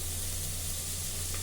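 Oil sizzling steadily in a pan while frying for a brinjal tomato curry, a close, even crackling hiss throughout with no talk.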